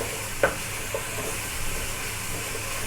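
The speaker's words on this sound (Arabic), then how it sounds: "هكمل انا تشويح البصله يا حبايبي" Onion and garlic sautéing in a pan for Egyptian baladi moussaka give off a steady, soft sizzle and hiss, with a couple of brief utensil clinks near the start and no voices.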